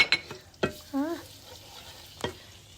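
Butter sizzling in a pan as it is stirred, with scattered scraping clicks of a utensil against the pan and a brief soft sizzle, close and fairly quiet.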